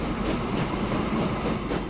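Locomotive from the Transport Fever 2 game running with its wagons, a steady continuous rail rumble with faint rhythmic clatter, heard alone throughout.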